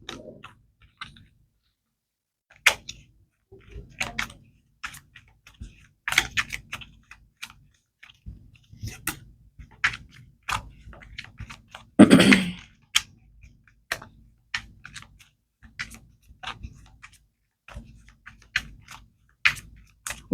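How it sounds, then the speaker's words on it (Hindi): Tarot cards shuffled by hand: sparse dry clicks and soft flicks in irregular bursts, close and quiet, with one denser riffle midway and no speech. "One last shuffle."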